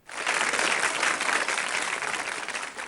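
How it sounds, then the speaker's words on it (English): A full audience applauds at a business summit and award night, dense steady clapping starting abruptly and holding strong for about three seconds. "give everybody a big round of applause"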